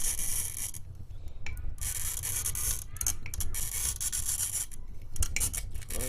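A bottle glass cutter scores a glass bottle, a close, continuous rasping scrape with a few brief breaks as the bottle is turned.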